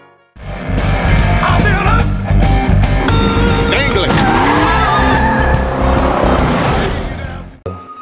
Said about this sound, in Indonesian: Edward dan Carter pun memacu mobil yang mereka kendarai seperti layaknya balapan sesungguhnya